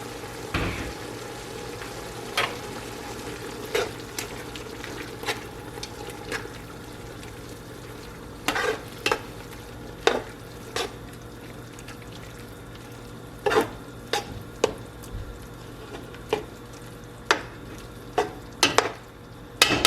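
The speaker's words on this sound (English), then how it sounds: "I'm gonna add in my tomato and peppers" Chopped tomato and peppers sizzle in a hot pan, a soft steady frying hiss broken by frequent sharp clinks and scrapes as a utensil stirs them, close and fairly quiet.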